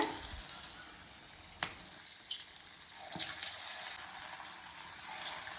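Mini kara bonda balls frying in a small pan of hot oil, giving a soft, continuous bubbling sizzle with occasional light pops and ticks, fairly faint and close, with no voices.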